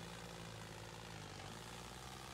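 A tractor engine in Farming Simulator 20 hauls a fully loaded trolley, producing a steady, droning engine hum that holds at an even level throughout.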